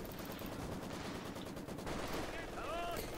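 Machine gun fire in the video game Company of Heroes 2, a continuous rapid rattle of distant shots under faint battlefield noise, fairly quiet throughout.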